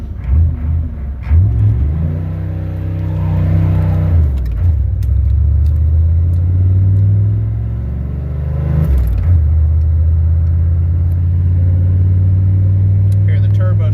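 A 6.5 turbo diesel engine with its fuel turned up revs and accelerates, a steady low rumble with rising turbo spool whine, dipping briefly between pulls; a voice talks over it.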